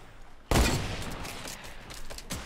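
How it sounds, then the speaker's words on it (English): Fortnite battle royale gunfire: one sudden loud shot with a decaying tail, followed by fainter scattered pops from several directions, no speech. "I think we're getting shot from a few angles here"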